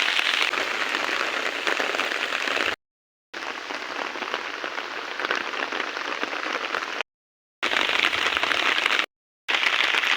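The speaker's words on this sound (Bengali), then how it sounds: "এখন পুরো হাওয়া চালাই দিছে মানে তুফান আই গেছে এখন বৃষ্টির মধ্যেও দেখো।" Heavy rain pours down steadily in a dense hiss during a storm, broken by a few brief silent gaps; no clear separate wind sound stands out.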